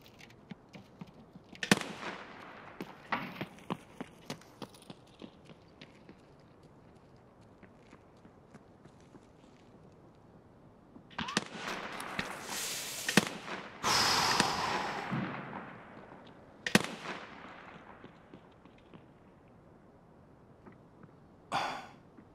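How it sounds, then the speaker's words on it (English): Sniper rifle gunfire in the video game Escape from Tarkov: a few sharp, loud shots spaced apart against quiet background, with a sustained noisy burst in the middle. "this gun is loud"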